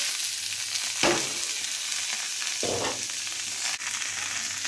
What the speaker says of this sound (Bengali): এই যে সসেজগুলো দিয়ে দিব